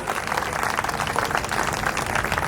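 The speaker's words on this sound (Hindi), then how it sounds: "बहुत जोरदार तालियों स्वागत करें भाई अजय अंजाम का" Audience at a kavi sammelan poetry gathering in Ballabhgarh applauding to welcome poet Ajay Anjaam, a dense, steady wash of many hands clapping at close range, sustained throughout without pause.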